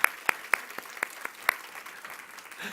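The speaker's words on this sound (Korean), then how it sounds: "사랑과 격려의 박수를 보내주셨으면 감사하겠습니다." A church youth service audience claps in welcome, sharp individual claps standing out over a steady patter of applause that thins slightly toward the end.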